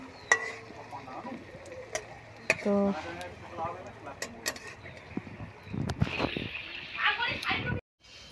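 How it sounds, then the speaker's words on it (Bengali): Fuchka puris frying in hot oil at home, a soft sizzle running beneath a voice speaking throughout, with brief clatters and a brighter burst of crackling near the end before a sudden cutoff. "তো দেখো আমার ফুচকা ভাজা প্রায় কমপ্লিটের দিকে।"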